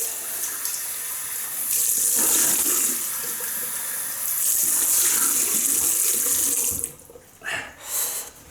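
A bathroom tap runs steadily into a sink for a rinse after a shave with a Gillette Slim Adjustable razor, a close, continuous hiss and splash that cuts off near the end, leaving a few brief splashes.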